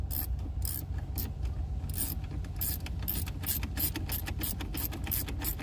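Screws are driven in to bolt down an aftermarket radio in a 2014 Dodge Durango, a close, rapid ratcheting whir of a driver clicking away continuously with no voices.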